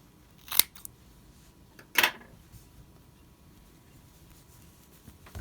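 Scissors snip fabric twice in sharp, close, separate cuts, trimming a seam allowance to a quarter inch while sewing a piped pocket and buttonhole, with a quiet pause between the cuts.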